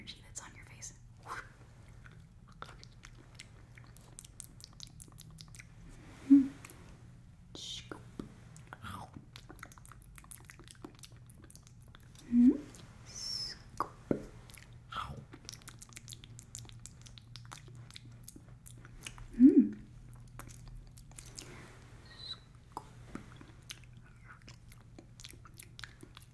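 Crunchy chips are chewed close to the microphone in a whispered ASMR setting, with a few loud crunch bites spaced several seconds apart amid softer mouth sounds and quiet whispering over a low steady hum.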